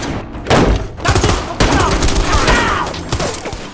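Gunfire in a film gunfight, with loud bursts of rapid shots and heavy thuds in dense, chaotic volleys.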